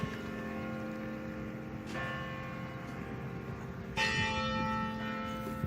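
A church bell rings from the Caroline Tower in Dayton, Ohio, its sustained humming tones hanging in the air, with fresh strikes landing around two and four seconds; no one speaks.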